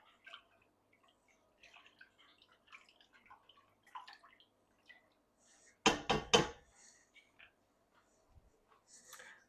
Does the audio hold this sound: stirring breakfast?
yes